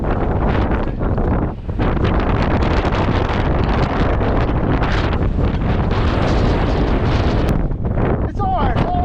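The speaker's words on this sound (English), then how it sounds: "I'm not hanging out in the wind for too long." Gusty wind hammers an exposed, fog-covered mountain ridge along the Pemi Loop, with heavy, close blasts of noise against the microphone that hold nearly constant and ease off only for a moment.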